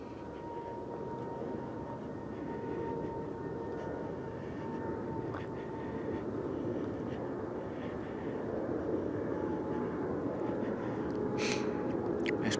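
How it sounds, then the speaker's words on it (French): Low, steady rumble of a cargo plane passing over woods at night near an airport, a continuous droning roar that swells slightly louder toward the end. "Ce que vous entendez là, c'est un avion."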